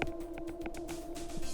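Engines of the I-500 snowmobile race drone in the distance, a steady thin buzzing hum like a swarm of bees that holds faint and continuous beneath outdoor ambience.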